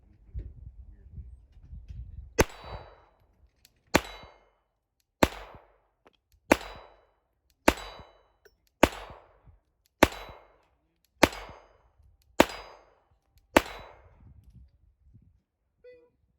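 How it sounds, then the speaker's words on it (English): .22 LR rounds from a Glock 44 handgun hitting steel targets: ten sharp metallic pings ring out at an even pace, each a quick bright strike with a short fading tail, distant-sounding and fairly quiet. "You barely hear 22 on steel with a handgun."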